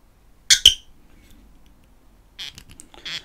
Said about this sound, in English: So let's get the bottle open and see what we've got.